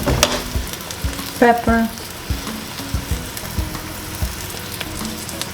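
Potatoes frying in a pan over low heat: a soft, steady sizzle with scattered clicks and scraping taps from stirring, while a person briefly speaks.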